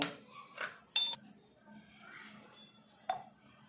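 Sliced ginger being crushed in a kitchen, heard as a few sharp, sparse knocks and clinks of utensil against a hard surface, quiet and close, separated by short pauses.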